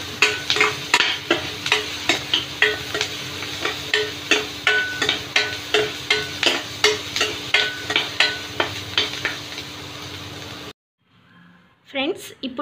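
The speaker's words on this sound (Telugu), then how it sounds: "ఆనియన్స్ ని పక్కనే ఉండి ఫ్రై చేసుకోండి" Onions for a brinjal biryani fry in a pan and are stirred with a utensil, scraping strokes repeating steadily in a quick rhythm over a constant sizzle, close and loud, then stopping abruptly near the end before a brief faint voice.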